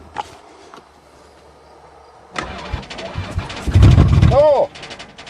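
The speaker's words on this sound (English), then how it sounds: "I'll see if it even cranks." The engine of a van that won't start cranks for about two seconds in a loud, rhythmic churn, then stops, with quieter mechanical noise before and after.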